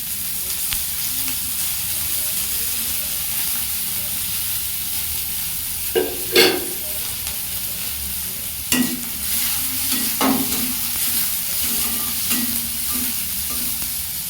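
Chopped garlic and onion fry in mustard oil under a constant hiss. A few distinct clattering stirs of a spoon in the pan cut through the sizzle midway, with no one speaking.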